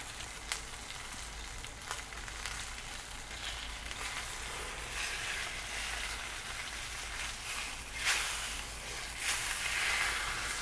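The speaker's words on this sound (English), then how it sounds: "See, and you get that lovely sizzle that we enjoy." Fish frying in hot oil in a pan, scored with incisions, giving a steady bright sizzle throughout with small crackling pops, close and fairly loud with no talking.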